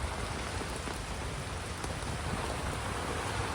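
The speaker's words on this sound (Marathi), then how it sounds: "आज पंढरपूरमध्ये खूपच मोठा पाऊस चालू आहे" Heavy monsoon-style downpour in Pandharpur on the eve of Dussehra, a loud, steady, dense hiss of rain drumming on surfaces throughout, with no voices.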